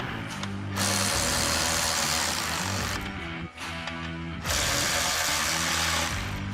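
An impact or ratchet tool runs bolts into 2-inch lowering blocks on a truck suspension, producing two long, loud bursts of steady mechanical whirring separated by a brief pause, with no talking.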